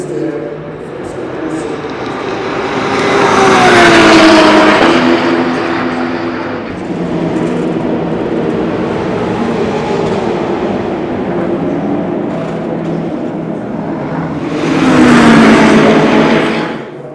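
Race cars in a VLN endurance race at the Nürburgring roar loudly past a grandstand opposite the start-finish line, two close engine passes swelling and fading with steady distant engine noise between them.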